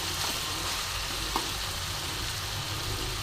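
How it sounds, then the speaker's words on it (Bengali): Onion and crushed black pepper sizzle steadily in hot oil in a pan, a close, even frying hiss lasting the whole stretch, with one faint click of a utensil partway through. "তো এইভাবেই আমি কিছুক্ষণ এটাকে ভেজে নেব"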